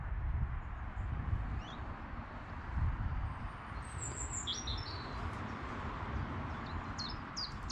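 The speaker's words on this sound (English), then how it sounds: "pair of bullfinches." Short, soft calls from a pair of bullfinches on a spring nesting walk, a few thin piping notes high over heavy wind rumble and a faint mix of other birdsong in the background.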